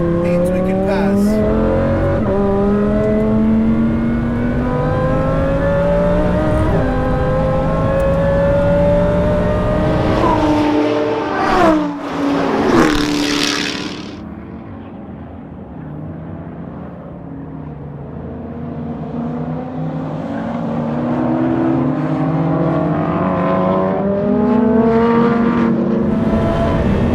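A supercharged 870 HP Lamborghini Huracan Performante is driven hard on a racetrack. The loud, close engine howls as revs climb repeatedly, then drops sharply during a brief gear change before surging back.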